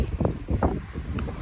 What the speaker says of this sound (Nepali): कस्तो दामी हावा आयो